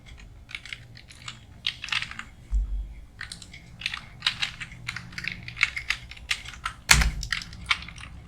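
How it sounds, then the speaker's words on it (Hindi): Fingers type on a computer keyboard during an Excel session, with quick irregular bursts of close, crisp key clicks, brief pauses, and one heavier thump near the end. "और एक मैं और टाइप कर देता हूँ।"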